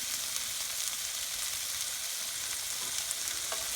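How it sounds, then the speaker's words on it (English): Chicken cacciatore with chicken and ground vegetables sizzles steadily in an electric skillet, a close, continuous crackling fry with no talking over it. "we're just going to continue to cook all this good stuff together here"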